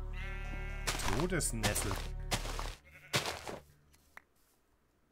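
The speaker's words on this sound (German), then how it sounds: "Guck mal, Schafe." Sheep bleating in the Minecraft video game, a few short wavering bleats mixed with a person talking over them, fading out toward the end.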